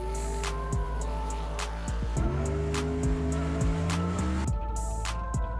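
A car fitted with upgraded chassis is being driven, its engine revving and shifting through rising and falling pitches, with occasional sharp clicks and tire noise, close and steady.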